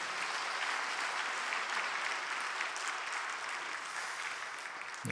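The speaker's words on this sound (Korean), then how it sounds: "우리 귀한 말씀 허락하신 하나님께 감사의 박수 한번 올려드릴까요?" A church congregation at a Korean New Year revival service claps in sustained, dense applause, with many hands blending into a steady roar that holds throughout and fades slightly near the end.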